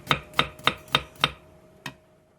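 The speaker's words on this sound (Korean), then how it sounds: "청양고추 한 개와 대파 조금을 쫑쫑 썰어주고" A knife chops a Korean green chili and a bit of green onion on a cutting board: five quick, evenly spaced close cuts, then a short pause and one final chop.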